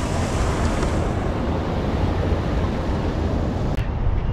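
Sea waves wash onto the shore in a steady, loud roar with wind buffeting the microphone, a continuous surf noise that briefly dips near the end, with no talking.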